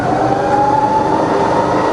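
A Bridgeport milling machine fitted with a three-axis DRO runs at low spindle speed in reverse, giving a loud, steady mechanical hum with a constant tonal whine and no talking.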